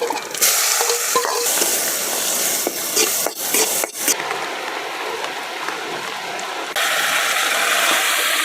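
Bay leaves, whole cumin, ginger, garlic and onion fry in hot oil in a wok, a steady close sizzle broken by scraping stirs, continuous throughout with no talking.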